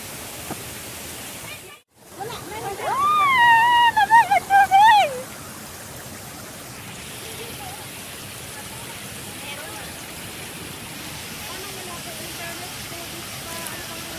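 The Tai Shui Hang waterfall in Hong Kong gives a constant broad rushing roar throughout. A voice rises over it briefly near the start, then the steady water noise carries on alone.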